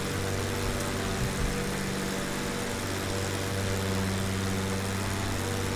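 Steady, droning piston propeller engine of a Piaggio P-166 in Microsoft Flight Simulator, holding an even, continuous hum throughout with no talking.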